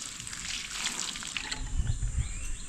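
Leftover bottled water is poured onto dry plants outdoors, a soft steady trickle and splash that grows a little louder near the end, with faint birdsong in the background.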